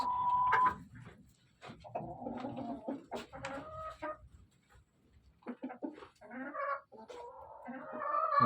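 Three chickens cluck and squawk close by in a small winter coop with an infrared lamp, in a busy, uneven series of calls, with short quiet gaps between bursts.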